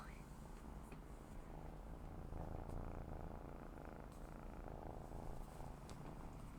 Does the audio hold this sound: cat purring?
yes